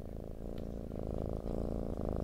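A cat purrs steadily and close up, a continuous low rumbling with gentle breath-paced pulses, heard alone without any talk.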